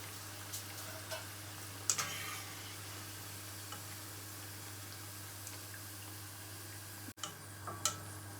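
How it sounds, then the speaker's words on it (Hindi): Palak pakora deep-fry in hot oil with a faint, steady bubbling hiss, a low hum beneath and a few scattered ticks and clicks. "2-3 मिनट और फ्राई करेंगे। अच्छा सा कलर आ जाएगा"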